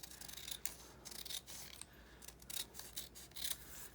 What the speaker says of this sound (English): I'm gonna cut this one in half.